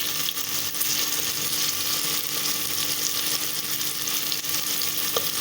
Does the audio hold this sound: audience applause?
no